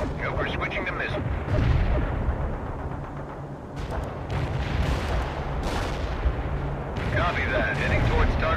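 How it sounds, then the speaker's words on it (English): Napalm strike explosions in the World in Conflict video game form a continuous roar of rumbling blasts and crackling fire, loud and dense throughout, with radio voices talking over the battle. "Napalm delivery ordered."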